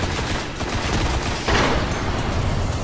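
Dense, continuous gunfire in the Xbox One beta of the video game Destiny, with sustained loud shots and a brighter burst partway through as mines are shot, no voices.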